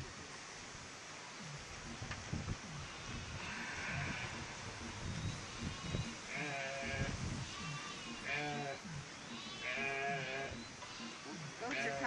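Goats coming home bleat repeatedly, several wavering calls overlapping at moderate distance over steady outdoor noise, with people talking faintly in the background.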